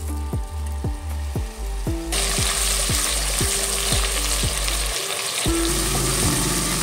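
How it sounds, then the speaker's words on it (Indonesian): Ground spice paste frying in a little oil in a pot, a loud continuous sizzle that jumps in intensity partway through, with repeated scraping knocks of a stirring utensil against the pot. "Siapkan panci, beri sedikit minyak, kemudian kita tumis bumbu yang sudah dihaluskan tadi."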